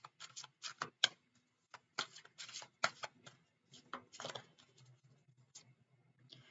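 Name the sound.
shuffling angel answer oracle card deck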